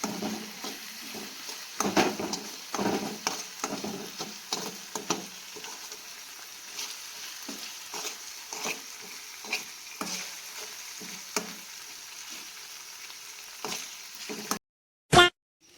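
Potatoes cooking in gravy in a pan over a low flame make a soft, continuous sizzle, broken by repeated scraping and stirring strokes up close, ending in a brief pause and a sharp knock.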